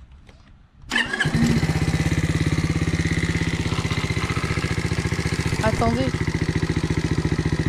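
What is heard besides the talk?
Skyteam Dax 50cc moped engine starting and idling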